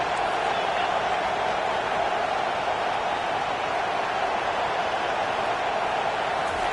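Stadium crowd at a college football game, Georgia at Oregon, giving a steady, even roar of noise that holds without pauses, with no distinct cheers or claps rising out of it.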